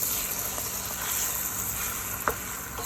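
Eggs fry in butter in a hot pan with a steady, close sizzle that hisses on throughout, broken near the end by a brief sharp tick from the pan.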